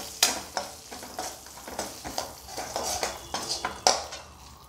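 A spoon stirs makhana (fox nuts) with fried nuts, roasted desiccated coconut and turmeric in a metal pan, giving a run of sharp scraping clinks and rattles at an irregular pace, close and clear, with a faint sizzle underneath.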